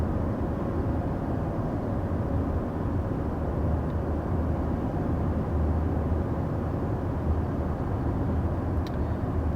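Inside a 2022 Toyota Camry mid-size sedan cruising at 55 mph, a steady low road and engine hum with faint wind rush fills the cabin, even and unbroken with no talking.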